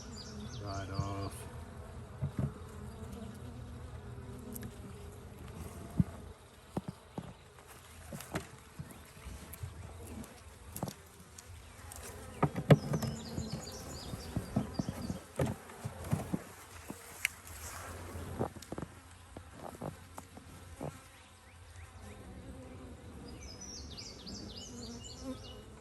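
Honeybees hum around an opened nuc hive frame holding brood and nectar, a steady close buzz under intermittent handling clicks and knocks, with occasional louder passes of individual bees.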